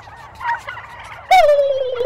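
A man imitates an aggressive male turkey, letting out one loud, rapid gobble that rolls into a long, falling call, close and alone after a quieter stretch.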